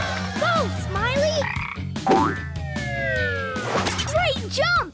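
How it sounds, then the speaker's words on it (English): Cartoon frog croaks repeatedly during a jumping contest in a children's animated rescue-dog show, the ribbits mixed with a rising siren-like effect and lively music, while characters talk over it. "The next jumper is Marshall's frog, Smiley."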